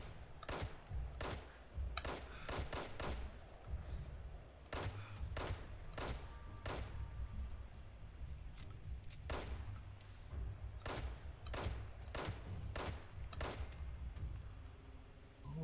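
Gunfire from the video game Fallout 76: a loud, irregular run of sharp shots, some in quick bursts and some spaced apart, over a steady low rumble with no talking.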